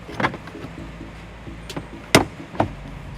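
Plastic interior trim being pried up on a 2014 Toyota RAV4, giving a few sharp, close snaps and clicks in irregular succession, the loudest near the end, with no talking.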